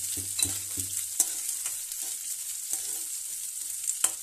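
Carrots, beans and green peas fry with green chilli in a pan for pasta, giving a continuous bright sizzle while a spoon scrapes and stirs in several distinct strokes, close and with no talk.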